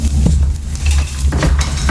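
Roughly chopped ginger and garlic fry in a pan with a loud, close sizzle. Stirring scrapes break through it now and then, and no one speaks.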